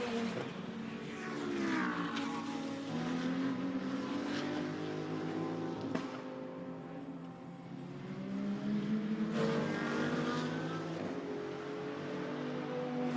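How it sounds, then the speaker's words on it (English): GT2 race cars at full speed on the Hockenheim circuit during a GT2 Europe race, engines wailing and shifting through gears as cars sweep past in a continuous loud roar, with pitch rising and falling and no voices. "Behind them, the similar car of Christophe Bourret drawing a little bit nearer"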